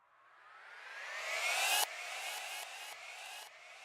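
Synthesizer sweep rising steadily in pitch and intensity, then cutting off abruptly into a series of stuttering, gated bursts, alone with no voices.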